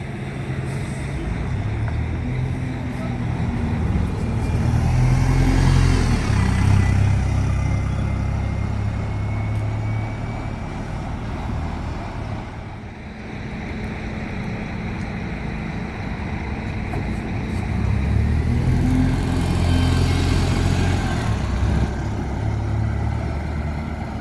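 A bus manoeuvres around Jarrow bus station before starting a service to Newcastle, its diesel engine rumbling steadily nearby for the whole stretch, swelling louder twice as it passes and turns, with no voices.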